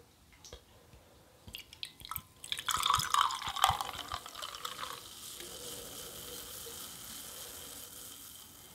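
Mead pours into a glass with gurgling splashes that swell midway, then settle into a soft fizzing hiss as a small head forms; quiet and close.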